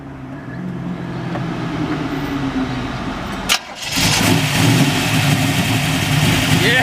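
A 1967 Chevrolet Malibu with a nitrous-equipped engine and electric fan cranks briefly, catches and settles into a loud, rough idle close by, the churning rumble steady after the start.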